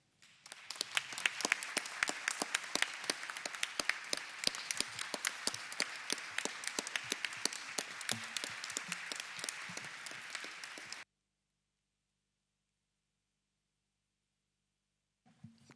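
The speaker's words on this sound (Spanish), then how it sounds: "vamos a cerrar esta mesa con otro aplauso" Audience applause at a forum panel on Argentina's regions: dense, loud, sustained clapping from a crowd for about eleven seconds, then it stops abruptly into silence.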